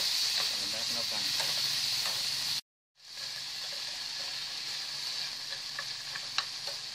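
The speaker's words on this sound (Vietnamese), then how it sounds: "Đang sôi rồi các bạn." Shrimp and bottle gourd soup bubbling in a pot, a steady close hiss and sizzle of boiling liquid with a brief cut in the middle, then continuing with light bubbling pops.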